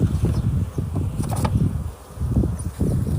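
Honeybees buzzing around an open hive during an inspection of bee colonies, a steady dense hum close by, with light rustling and handling noise.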